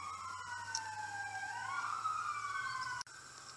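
An ambulance siren passes outside, its wailing tone sweeping up and down steadily and fairly faint at a distance, with no talk over it.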